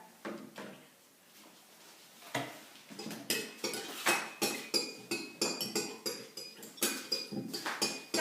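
A utensil stirring a mixture, producing a fast run of rhythmic clinks and taps against the container, close and fairly quiet, quickening after a short pause at the start.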